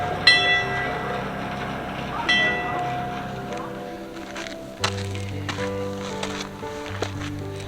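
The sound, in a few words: mine train passing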